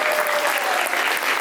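Loud, dense applause from an audience at a Diwali cultural celebration in an indoor hall, steady clapping filling the whole short stretch without a break.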